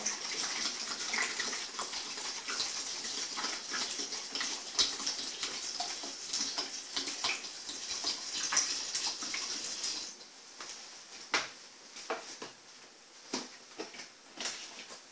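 Tap water is poured from 1.5 litre bottles into a container for making makgeolli, a steady close gushing stream that stops after about ten seconds, followed by scattered drips and light clicks.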